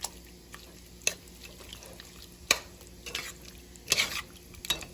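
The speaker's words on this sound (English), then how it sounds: "I'm gonna put the cream of mushroom in here. I'm just gonna mix it and let that warm up" A spoon stirs cream of mushroom soup in a pot, with a few sharp scrapes and clinks against the metal rising above a low, steady simmer. No voice is heard.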